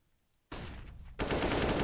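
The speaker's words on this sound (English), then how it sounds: "Sprays up, Bobasaur takes out one, Benko gets another on Safara" Automatic gunfire sprays in Counter-Strike on the Dust II map during a tournament match, a loud burst starting abruptly after a quiet moment and then swelling into denser, continuous rapid fire.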